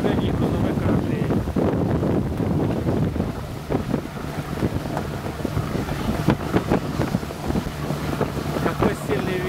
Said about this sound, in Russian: Какой сильный ветер поднялся.